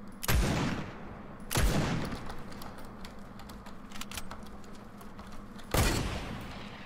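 Hunting rifle shots in Fortnite, three sharp cracks spaced a few seconds apart, with faint clicking and game ambience between them.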